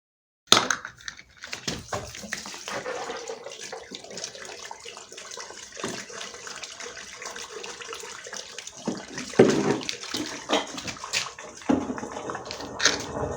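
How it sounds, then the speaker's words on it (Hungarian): Water poured down a drain, with steady splashing and gurgling that runs close and fairly loud throughout, swelling near the end; no talking. "leönteni a vizet."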